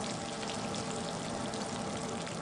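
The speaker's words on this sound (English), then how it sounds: "Snapping shrimp sounds like bacon frying in a frying pan." Dense, steady crackling of snapping shrimp underwater, a continuous sizzle like bacon frying in a pan, filling the whole stretch at an even level with no talk.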